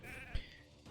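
A single sheep bleat from the Raid Shadow Legends game, a short wavering animal cry that stands out clearly over a steady low backdrop of game sound.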